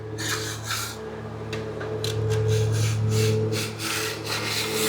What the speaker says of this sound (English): Put the file against it.